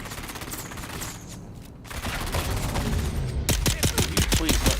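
Rapid bursts of gunfire from the Dune: Awakening video game, a dense fusillade that grows louder and sharper toward the end, with repeated close, punchy shots over a continuous rumbling background.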